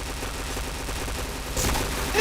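Gunfire in a shooting video game comes as a rapid string of quiet pops under constant game noise, followed by a louder sharp burst near the end.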